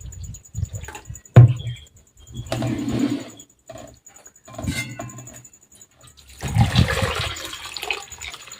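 Water splashes and pours in uneven bursts over wheat being washed, with sloshing and scraping in between and a louder rush of pouring near the end.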